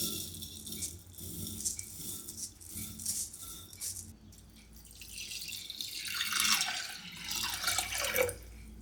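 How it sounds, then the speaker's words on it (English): Filtered water runs from a tap over rice during a first rinse in a rural Spanish kitchen, a soft splashing stream with drips and rattling grains that swells louder toward the end. "For the first rinse, the rice drinks up water first, so I use filtered water."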